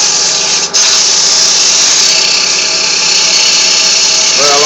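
Wooden bowl spinning on a lathe while being sanded, a loud continuous whirring and hissing drone holding steady with one brief dip near the start.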